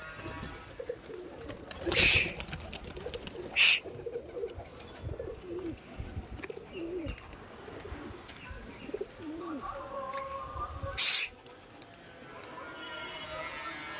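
Pigeons coo softly and repeatedly in a quiet setting, broken by a few brief, sharp bursts of noise.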